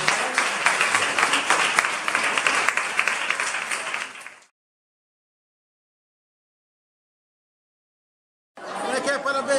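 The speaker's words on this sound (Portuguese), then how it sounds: "Aplauda ao Senhor." A church congregation at a pastor's anniversary service applauds, loud dense clapping with voices mixed in, cutting to silence midway before the clapping and cheering return.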